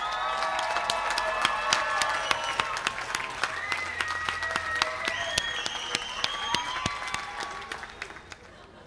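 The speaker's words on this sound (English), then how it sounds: "let's give them a round of applause." Audience applause and some cheering for rising parents and families at a university commencement ceremony, with many claps mixed with crowd noise and a few voices, steady throughout and fading slightly at the end.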